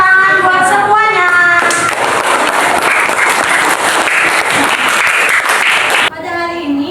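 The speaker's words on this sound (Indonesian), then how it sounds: "Tepuk tangan buat semuanya" Students in a classroom break into a burst of loud, crowded applause, with talking heard briefly just before and right after the clapping.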